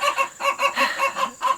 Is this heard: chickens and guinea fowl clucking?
yes